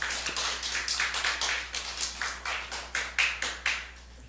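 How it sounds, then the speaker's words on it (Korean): During a Korean church Friday prayer meeting, the congregation claps in a steady, even rhythm, roughly fifteen firm beats, with the last ones fading out at the end. "오늘 정말 우리가 각자가 자신에게도 박수를 한번 쳐주고 또 서로에게 박수를 한번 쳐줬으면 좋겠습니다."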